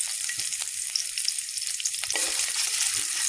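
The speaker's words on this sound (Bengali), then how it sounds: "চুলায় আমরা তেল দিয়ে দিলাম" Oil sizzles in a pan on a village stove, a steady, crackling fry with small pops that swells slightly toward the end, close and without speech.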